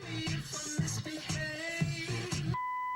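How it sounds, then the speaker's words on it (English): A single steady electronic beep from a 1971 Ford Mustang's AM/8-track car stereo sounds near the end, signalling a function timing out, alone after a stretch of music playing through the car speakers. "we get 1 beep letting us know that the function is timed out"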